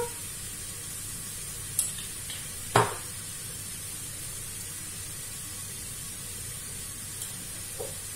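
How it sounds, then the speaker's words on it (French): Ground meat frying in a pan with garlic and parsley while it is stirred and crumbled: a steady, soft sizzle broken by a couple of sharp utensil scrapes and taps. "On mélange et on émiette le tout jusqu'à ce que ça cuise complètement."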